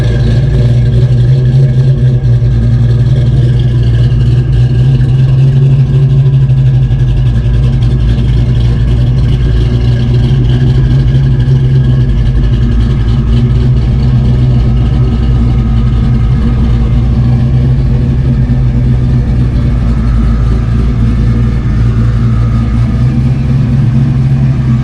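A Vortech-supercharged Fox-body Ford Mustang notchback with a 5.0 engine idles loud and close, its steady low rumble lifting into occasional revs with no talking over it.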